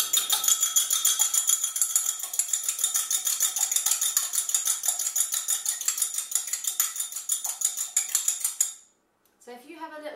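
A fork whisks raw egg in a bowl with a fast, even clatter of metal tapping and scraping against the dish for about nine seconds before it stops, followed by a brief voice.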